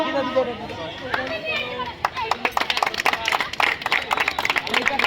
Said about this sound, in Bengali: সকলে হাতে তালি দাও।